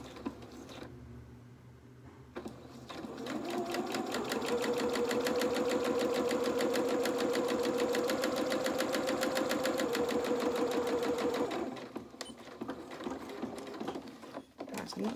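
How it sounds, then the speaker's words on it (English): A sewing machine stitches down the side of a fabric piece for a tail, starting after a short pause and then running steadily and fast for about eight seconds, with a rapid even whir and clatter, before it stops with faint handling sounds. "we're just going to sew down this side as I did originally."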